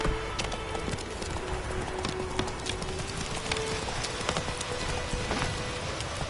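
Horse hooves galloping in the video game The Witcher 3, a rapid steady clip-clop of hoofbeats over a dense rushing background, close and continuous for the whole stretch.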